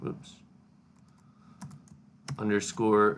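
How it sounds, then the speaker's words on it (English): Sparse keyboard clicks tap out over a quiet room, followed by a voice starting to speak near the end. "I would just start typing in engine underscore"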